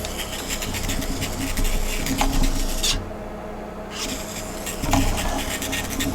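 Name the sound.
DC electric motor running on a 12-volt power supply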